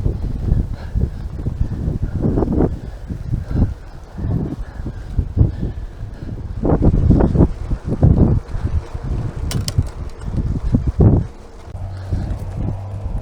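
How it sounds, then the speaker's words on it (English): Wind buffets a foam-muffled camera on a cyclist riding a country road toward the Ston Easton turning, below the Mendip Plateau climb; loud, uneven low rumbling gusts surge and ease throughout with no talk. "It's quite windy as I approach the Ston Eastern turning."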